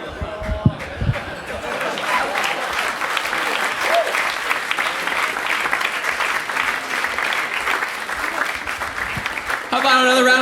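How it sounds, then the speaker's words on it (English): A crowd at a live comedy show applauds comedian Phil Parker with dense, steady clapping for about ten seconds, loud and close, ending abruptly as a voice cuts in. "How about another round of applause for the extremely positive Phil Parker, ladies and gentlemen."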